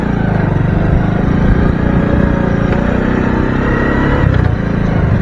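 A small grass cutter engine runs steadily and loudly throughout, a continuous droning hum with a slight rise and fall, working close by.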